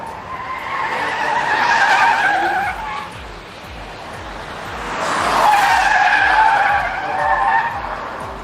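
A $400,000 Rolls-Royce Cullinan SUV driven hard on a race track, its tires squealing loudly in two long skids with a steady engine roar underneath, no voices.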